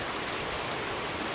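Heavy rain pours down in a dense, steady roar that fills the short stretch evenly and close by, with no voices.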